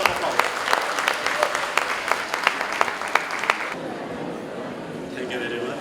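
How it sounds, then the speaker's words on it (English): Round of applause at a college international conference opening, with crisp clapping over a background of voices that fades after a few seconds into a murmuring hall. "So please welcome with a huge round of applause."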